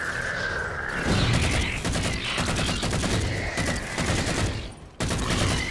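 Halo 4 gunfire rattles through in continuous rapid bursts, loud and close, with short breaks and a quick resumption near the end.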